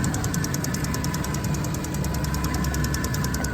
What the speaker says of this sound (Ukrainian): Двигун працює рівненько не димить, не сапунить.